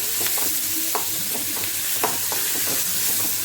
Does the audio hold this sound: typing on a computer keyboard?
no